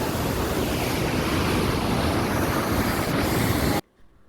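Water roars through the open spillway gates of the Lower Manair Dam, about 135 feet high with twelve of twenty gates open. The rush is loud, dense and continuous, then cuts off abruptly near the end.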